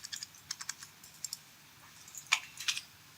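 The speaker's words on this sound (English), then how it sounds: "use your arrow key on your keyboard just to nudge that up." Arrow keys on a computer keyboard tapped in a quick irregular series of light clicks, close and quiet, with no talk.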